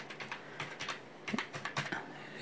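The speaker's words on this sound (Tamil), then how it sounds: "க்ரோமில் போயிட்டு RH ரிப்போர்ட்டிங் அப்படின்னு டைப் பண்ணுங்கள்." Rapid keyboard typing on a computer, a run of light, irregular key clicks in short bursts with brief pauses, close and fairly quiet, no voices.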